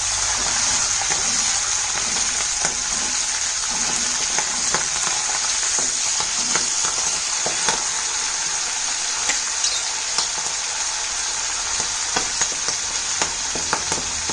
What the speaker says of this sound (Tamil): மோர் மிளகு நல்லா வதக்கணும்.